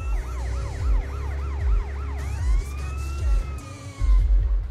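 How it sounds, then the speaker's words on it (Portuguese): Police car siren in the GTA MTA roleplay video game, a loud wailing siren sweeping up and down repeatedly, then shifting to a slower long sweep, over a low rumbling engine with no talk. "Esse barulho aqui, né? Da viatura."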